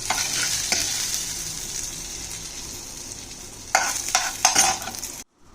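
Cumin seeds tempering in a little hot oil in a wok sizzle steadily and close, with a few louder bursts of stirring and scraping near the end before the sound stops abruptly.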